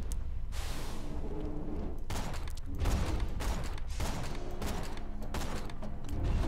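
A Borderlands 2 gun fires in repeated loud bursts of sharp shots with short gaps between, set against dense, noisy game action.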